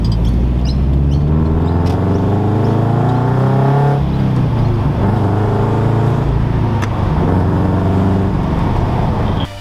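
Toyota 86 boxer engine fitted with Tomei UEL headers, giving a loud, close, continuous rumbling idle and rev with uneven throbbing pulses and no talk over it.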